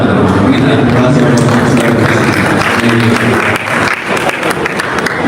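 A large audience at an Indonesian public discussion event claps in a steady, dense wash of applause that fills the whole stretch, loud and close, with some voices mixed into the crowd noise.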